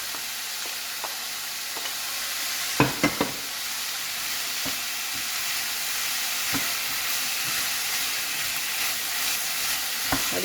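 Bell peppers and onions sautéing in a pan for a beef stir-fry, a steady close sizzle with a few scraping stirs of a utensil near the start.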